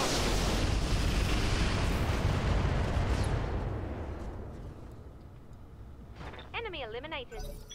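Mech weapons fire and explosions in a video game roar loudly as one dense rumbling barrage, then fade to a quieter tail as a voice comes in.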